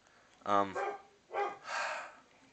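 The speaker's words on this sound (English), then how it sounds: "Freaking dog." A dog barks a few times in quick succession indoors, sharp short barks with a pause between, moderately loud and heard alone without talk.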